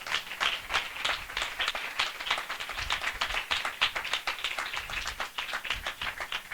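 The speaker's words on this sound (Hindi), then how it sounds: "ताली बजाकर प्रभु का धन्यवाद करें।" Church congregation clapping together in a steady, rapid rhythm, many hands close and distinct, sustained through the whole stretch with no voices over it.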